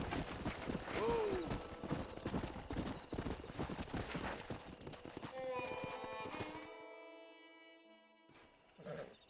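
A horse's hooves clip-clop at a steady rhythm in the Western game Red Dead Redemption, close and fairly loud over a busy game soundscape with a brief whinny early on, before the hoofbeats give way to quieter tonal music.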